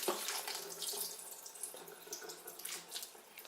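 Tap water runs steadily from a faucet as vegetables are washed under filtered water, a close, continuous splashing hiss with small shifting surges and no voices.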